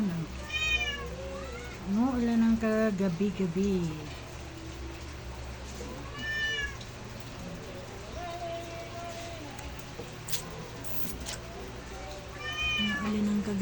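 A cat meows several times at night while rain falls, with steady rain noise underneath. The meows are fairly close and come in short bursts, and a person talks softly between and over them.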